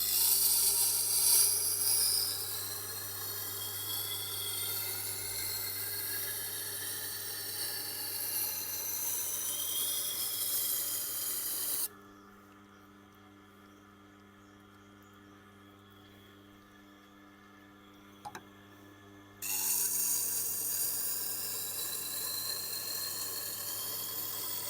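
A knife is sharpened on a Tormek sharpening machine, giving a continuous close grinding hiss with a low hum beneath. It breaks off into near silence midway, then starts up again.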